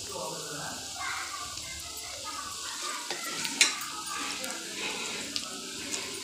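Spiced masala mixture with mutton masala, homemade masala and coriander powder being stirred in a sizzling pan for an egg dish, a steady scraping stir over continuous frying hiss with a few louder clinks.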